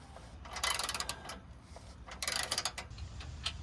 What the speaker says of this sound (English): So now we're just tightening everything up. One last bolt check.